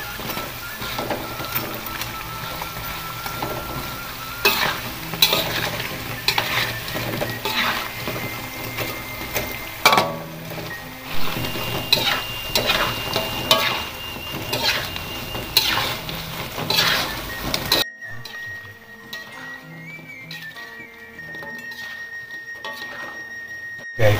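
Cireng terasi, Sundanese fried tapioca snacks with shrimp paste, sizzling in hot oil in a pan with steady crackling frying and intermittent scraping and clinks of stirring utensils, close, with the sizzle thinning near the end.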